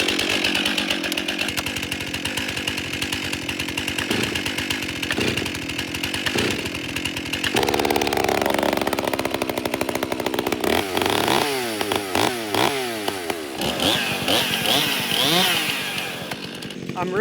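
A Husqvarna-style 400C chainsaw bucks firewood, its engine snarling loud and close under load, then dropping to idle before revving again in sweeping pitch changes, with someone speaking in the middle.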